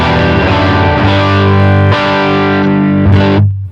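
An electric guitar played through a drive pedal on a worship pedalboard with the gain turned up, feeding a Blues Junior amp. Sustained, saturated chords ring out loudly with heavy bass, changing twice before cutting off.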